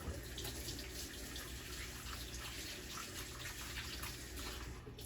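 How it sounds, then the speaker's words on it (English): Steady running tap water splashes over hands at a kitchen sink, a continuous even rush with no breaks, close and alone without talk. "I'm just going to wash my hands again."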